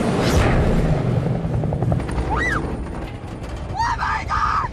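A helicopter carries a suspended Dodge Challenger SRT Demon 170 to a drag strip event in Las Vegas. Its loud, close rotor drone fills the whole clip, with a few higher chirping sounds near the end.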